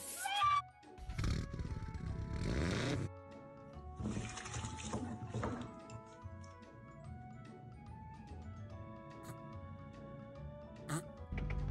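A cat meows amid busy, shifting game sounds and tonal music, with sharp bursts of noise near the start.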